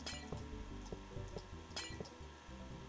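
Glass blocks breaking in the video game Minecraft, a string of bright clinking shatters at irregular intervals over a dense background of game sounds, with no voices.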